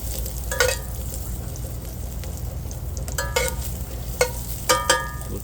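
Potatoes browning in a pan for chicken scarpariello, cooked outdoors, give a steady close sizzle with a few sharp clinks and stirring scrapes scattered through.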